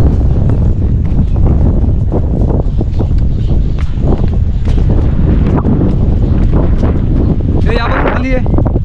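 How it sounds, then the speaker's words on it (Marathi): Strong wind gusting across Visapur Fort, loud buffeting roar blasting the microphone continuously, with a brief voice near the end. "विसापूर फोर्टवर सुसाट वारा सुटला आहे."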